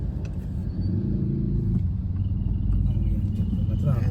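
Steady low car rumble from inside a vehicle stuck in road traffic in the Philippines, engine drone continuous throughout with faint passing vehicles; speech is likely present under the rumble.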